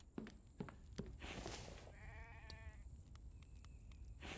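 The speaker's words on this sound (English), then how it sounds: "Is that another goat?" A goat bleats once in the video game The Infected, a wavering, slightly nasal call in the middle of the clip, set against steady game ambience with a few soft clicks and thumps before it.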